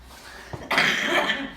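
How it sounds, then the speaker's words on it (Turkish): A single short cough bursts out close to the microphone after a brief quiet moment, followed by a little breathy noise. "Burayı kes öksürüyor."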